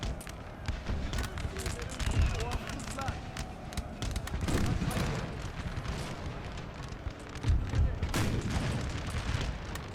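Musket gunfire in Napoleon Total War 3 crackles in scattered volleys and thuds across a busy battlefield din, with heavier bursts near the end and someone talking over it.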